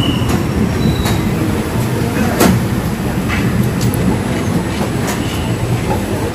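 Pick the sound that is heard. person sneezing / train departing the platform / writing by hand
train departing the platform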